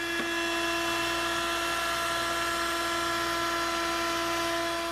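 A router fitted with a 3/8 inch radius bit rounds over the bottom edge of a wooden frame for a small square table, giving a steady high-pitched whine with a constant hum, close and uninterrupted.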